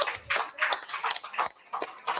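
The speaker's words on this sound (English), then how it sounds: "how about a round of applause for our friends here at KDO Burns?" Crowd applause at Katie O'Byrne's bar, a steady burst of many hands clapping close by with no voices over it.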